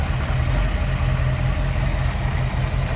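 A 1962 Chevrolet Impala's 327 V8 idles with a steady, close, low rumbling pulse that stays even throughout, with no voices.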